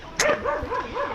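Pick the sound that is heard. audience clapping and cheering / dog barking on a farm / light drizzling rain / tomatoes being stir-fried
dog barking on a farm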